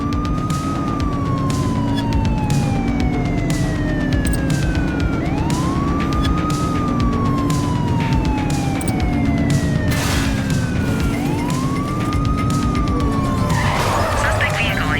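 Police car siren wailing steadily through a video game pursuit, the sweeping tone rising and falling over a constant engine roar, loud and close throughout, with a sharp crash or burst of noise near the end.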